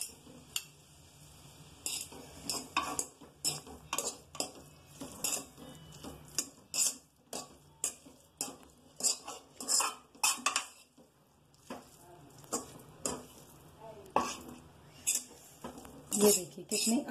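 Peas being mixed into vegetables and Maggi noodles in a pan, a rhythmic series of clinking, scraping spoon strokes against metal, moderately quiet with brief pauses.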